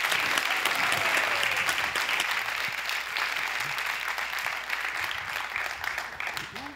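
An audience at a local Cégeps en spectacle final in Drummondville bursts into sustained, loud applause to welcome a speaker, with dense clapping and some crowd noise that holds steady before easing slightly.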